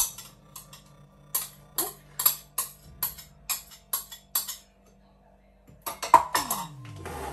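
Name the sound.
stirring pancake batter in a bowl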